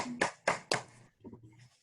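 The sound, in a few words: virtual applause after a presentation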